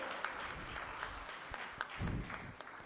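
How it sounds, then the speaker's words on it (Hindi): Thin, scattered clapping from a small audience at the Dewas Pride awards function, faint and uneven with a few louder individual claps standing out. "जोरदार तालियां एक बार फिर से।"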